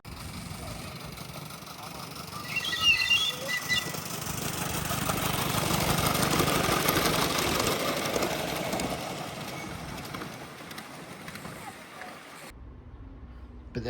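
A vehicle engine runs steadily at idle, close and continuous, with a broad droning hum that swells slightly midway before cutting off near the end.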